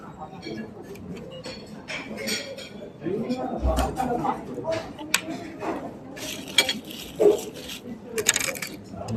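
Raw egg yolk stirred in a bowl over rice with utensil clinks and scraping, close up, amid a busy background of voices and dish clatter.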